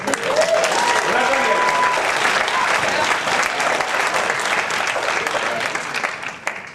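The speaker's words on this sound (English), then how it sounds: "Wow, let's have a little hand." Audience applause at an eBay In Person event in Salt Lake City, a loud, steady wash of clapping from a large crowd that holds for several seconds and tapers slightly at the end.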